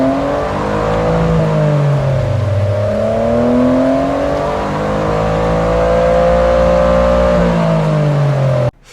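A Toyota GR Corolla's 1.6-liter three-cylinder engine revs through rising and falling exhaust tones, loud and close with a steady throaty drone that sweeps up and down over several pulls before cutting off abruptly at the end.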